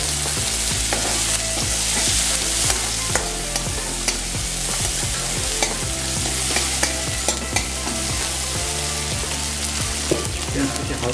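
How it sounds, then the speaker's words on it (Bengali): Onions fry in mustard oil with a dried red chilli, giving a continuous loud sizzle broken by repeated scraping stirs of a spoon in the pan, with no voice. "তারপর আমরা পেঁয়াজটাকে ভেজে নেব।"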